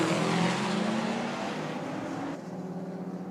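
A BMW accelerating hard down a drag strip at a roll-start drag race, its engine a loud, sustained roar close by that eases slightly partway through, with no talk over it.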